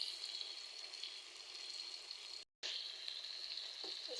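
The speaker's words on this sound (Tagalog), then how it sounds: "Nagisa na ako ng bawang sibuyas at kamatis" Garlic, onion and tomato sautéing in a pan for stir-fried bitter gourd, a soft steady sizzle that drops out for a moment and then resumes, fairly quiet.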